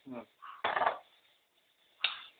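Dishes are washed by hand, giving a few brief metallic clinks and clatters of pots and utensils with short pauses between them. A voice is heard briefly at the start.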